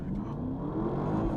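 A Porsche Panamera Turbo S E-Hybrid in Sport Plus mode pulls hard on a road, using both battery and engine, with a steady, loud engine and drivetrain roar sustained through the short burst of acceleration.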